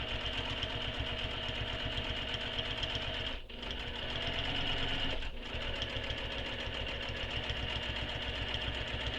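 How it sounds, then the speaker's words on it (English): Home sewing machine backstitching on a quilted circular bag, a steady close whirring run of stitches with two brief pauses, no voices. "I'm just going to backstitch where it stopped, just to help lock in those previous stitching"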